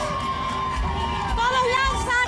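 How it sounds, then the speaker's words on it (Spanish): A crowd gathered along a funeral procession in Ciudad Juárez claps and cheers in a dense, steady wash of applause and shouts, with a voice talking over it. "La gente lo aplaude, lo recibe con palmas."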